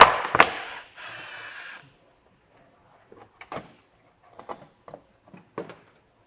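Loose mechanical clatter and a sliding rattle, then a string of short metallic ratchet clicks in small bursts as 11mm nuts come off a heat shield on a 2018 Jeep, near and with no talking.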